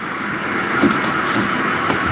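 A model train locomotive sound from a QSI sound decoder plays a steady, continuous rumbling run with a faint rhythmic clatter, fairly close and moderately loud, with no talking.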